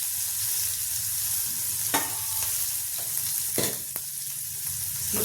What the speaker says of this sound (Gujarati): મિક્સ કરી દઈશું